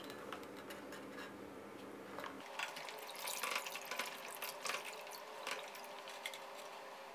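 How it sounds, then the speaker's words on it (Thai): Eggshells are washed with water: a faint, soft trickle of running water with scratchy rubbing and light splashing throughout. "ให้เราล้างเปลือกไข่ของเราให้สะอาดเลยนะครับ"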